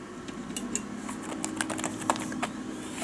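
Quiet, rapid keystrokes patter on a foldable, flexible full-sized computer keyboard, soft irregular taps close by over a faint background hum.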